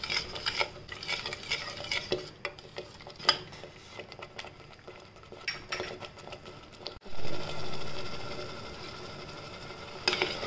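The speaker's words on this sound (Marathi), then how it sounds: "आता छान परतून घेऊया तेल सुटेस तोपर्यंत" Byadgi or Kashmiri red chili, turmeric and coriander-cumin powder sautéing in oil in a pan for chole gravy, with scraping stirring and a soft sizzle, then a louder whooshing hiss partway through.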